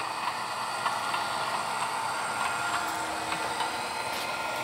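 A model train rolling along the track on a layout, a steady soft metallic rumble and hiss with faint regular clicks of wheels over rail joints, no talk.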